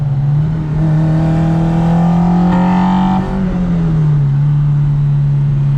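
A Honda S2000 engine drones steadily from inside the cabin as it accelerates, a loud, smooth tone that rises slightly in pitch, then eases back as the revs settle.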